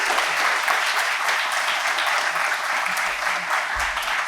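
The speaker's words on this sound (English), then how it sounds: "Let's give them a round of applause." A debate audience gives a round of applause, dense steady clapping from many hands filling the room for several seconds, loud and even with no voices over it.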